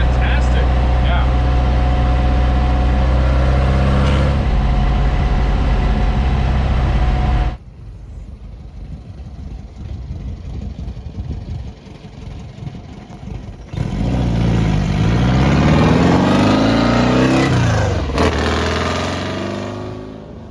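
A VW Beetle Volksrod Baja Franken build engine runs loud and close on its first test drive, a steady rumble that drops back for several seconds and then swells again with rising revs.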